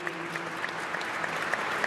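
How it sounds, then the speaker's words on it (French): Sustained applause from a large crowd greeting the arrival of abbé Pierre's coffin at Notre-Dame, an even, distant wash of clapping with a few sharper claps standing out. "Dès l'arrivée du cercueil, des applaudissements pour saluer l'abbé Pierre."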